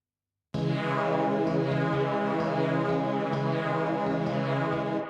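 A dense, sustained synthesized tone from a looped wave sample on an Ensoniq Mirage sampler starts abruptly after a short silence and holds steady, with a subtle repeating pulse running through it.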